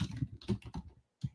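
Rapid keystrokes on a computer keyboard sound close and clear, with a short burst of clicks, a brief pause and one final tap, with no voice.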